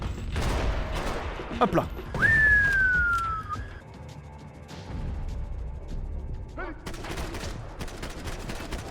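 Gunfire in the video game Max Payne 3: scattered sharp shots and bursts ring out loud and close, with someone talking over parts of the action.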